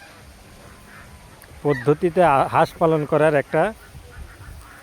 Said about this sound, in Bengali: এটা হলো আধুনিক পদ্ধতিতে একটা হাঁস পালন করার